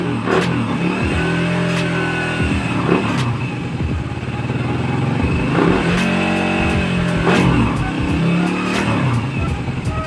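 Suzuki Raider 150 Fi motorcycle engine revving repeatedly while stationary, loud and close, with the pitch climbing and falling in several rises over a steady idle rumble.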